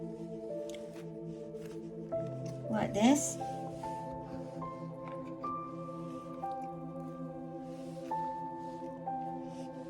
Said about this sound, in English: And then I'm going to lift the bubbles out and onto the paper.